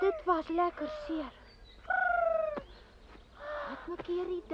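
A cartoon dove coos in a short rolling call, heard clearly in a gap between animated characters talking before and after it.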